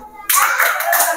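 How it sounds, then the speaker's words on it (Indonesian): Children at an evening Qur'an camp session clap together on cue, a sudden loud burst of group clapping that starts after a quiet pause and carries on with a rough, dense texture to the end. "Tepuk dua."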